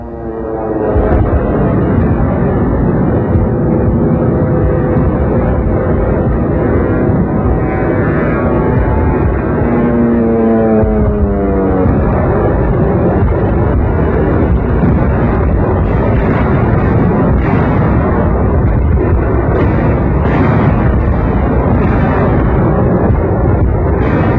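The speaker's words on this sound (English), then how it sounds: "The weather cleared and the Air Force took to the skies to bomb and strafe and fight the rejuvenated Luftwaffe to the ground." WWII newsreel combat of warplanes bombing and strafing during the Battle of the Bulge: a loud, continuous roar of engines with falling and rising drone tones, rumbling blasts and dense noise throughout.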